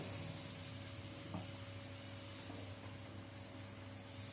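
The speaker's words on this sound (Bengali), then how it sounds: "জল দিয়ে মশলাটা ভালো করে কষিয়ে নিচ্ছি।" Spice paste is sautéed with a little added water, giving a soft, even sizzle that hisses steadily with a couple of faint stirring touches. It is quiet, and no one speaks.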